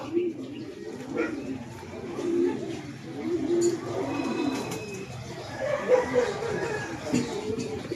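Pigeons cooing close by outdoors, soft low repeated coos running throughout under a voice talking, with faint background birds and a dog barking briefly.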